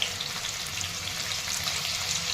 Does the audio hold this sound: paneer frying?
yes